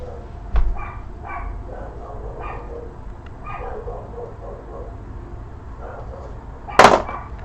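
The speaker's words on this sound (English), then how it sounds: "the dog's barking and getting on my nerves" A dog barks a few times in the background, faint and muffled, with a sharp louder bark or thud near the end and no speech.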